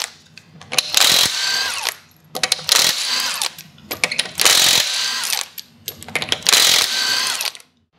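Draper impact gun zipping the wheel nuts off a Toyota Celica during a front brake job: four loud, close rattling bursts of about a second each, with short quiet gaps between them.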